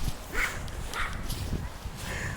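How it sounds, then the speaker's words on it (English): A small dog runs up and gives a few short, close barks, with scuffling steps between them. "That little dog just ran up and tried to nibble like my leg a little bit."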